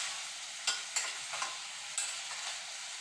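Jerk fried rice being stirred in a pan, with a few sharp scrapes and clinks of the utensil against the pan over a steady, quiet sizzle.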